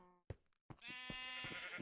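A Minecraft sheep bleats twice in the game, a short nasal bleat followed by a longer wavering one after a brief soft knock, close and clear with no talk.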